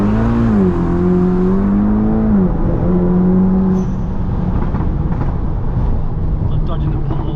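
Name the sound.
400bhp VW Scirocco R engine revving while accelerating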